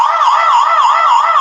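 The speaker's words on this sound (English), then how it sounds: "And then it's got the siren here." Loud electronic siren from a Dahua IPC-C26EN WiFi security camera, a rapid wailing tone sweeping up and down several times per second, steady and continuous with no talk over it.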